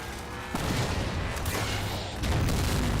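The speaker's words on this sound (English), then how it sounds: "Well, fire the damn railgun!" A railgun fires in the Halo 4 video game, two heavy booming blasts with broad crackling noise filling the mix between them and no talk.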